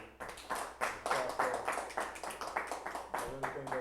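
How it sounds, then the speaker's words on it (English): A small audience at a Sunday study session claps in a steady, rhythmic patter of distinct hand claps, close and fairly loud throughout. "and another round of applause for the"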